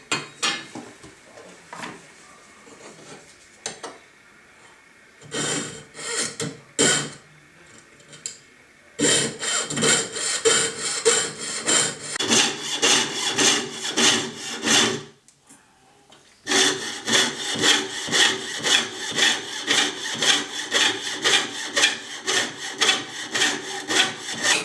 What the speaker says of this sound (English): sawing with my jeweler's saw very close to the edge of the frame